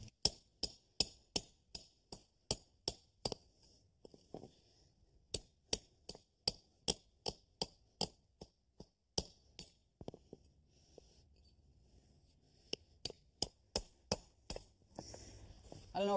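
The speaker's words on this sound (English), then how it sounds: "take the chisel and the hammer, cut right across that line for me," A steady series of sharp metallic hammer strikes on a hand chisel cutting asphalt, dozens of rapid ringing blows with brief pauses, close by over a quiet background.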